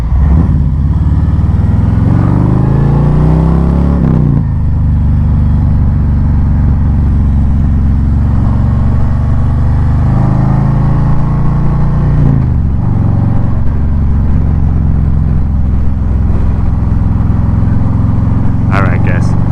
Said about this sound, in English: Riding a motorcycle.